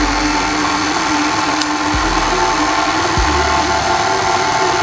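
A food processor runs loudly and steadily, kneading pizza dough with a constant motor whir and a couple of brief dips in pitch as the load shifts.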